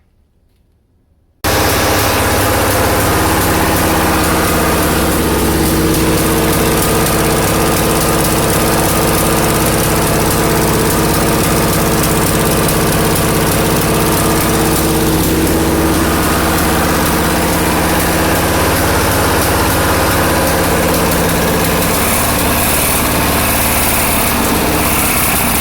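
Sears Suburban garden tractor with a small engine running at a steady, loud idle close by, a continuous buzzing putter with little change in pace, starting after a short silent opening.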